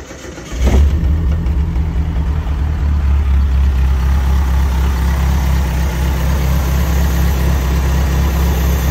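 A Nissan 720 pickup engine fitted with a Weber carburetor, choke unhooked, catches with a sharp start and settles into a loud, steady close-up idle that runs on without talk.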